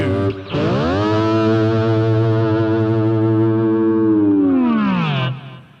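Pedal steel guitar playing parallel fifths in a heavy metal style, a thick distorted sustained chord that swells, slides up the neck and glides back down over about five seconds, loud and alone.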